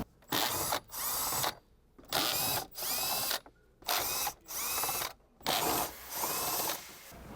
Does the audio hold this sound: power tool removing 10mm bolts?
yes